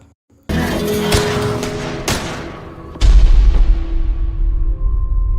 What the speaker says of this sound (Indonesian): Mereka berdua saling menembak.